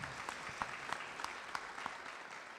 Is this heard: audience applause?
yes